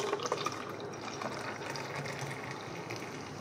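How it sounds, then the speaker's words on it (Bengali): Cold Fanta is poured into a blend of mint and lemon juice, a steady fizzing, splashing stream of liquid that runs quietly and continuously for a few seconds. "এবার এর মধ্যে আমি ঠান্ডা ঠান্ডা ফান্টা ঢেলে দিব"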